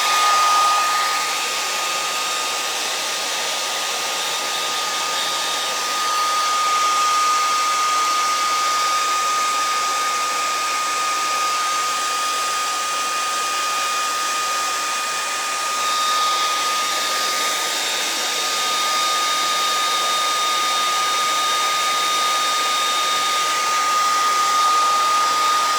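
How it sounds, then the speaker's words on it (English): A hairdryer blows steadily and close for the whole stretch, drying paint on a kids' pig painting, a constant even whooshing hum with a faint high whine and no talking. "Dry it really good with a hairdryer."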